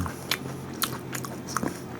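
A bite into a Kinder Happy Hippo cacao wafer, a lightly crisp hollow shell filled with chocolate, gives a few sharp, close crunches spaced over two seconds with no talking.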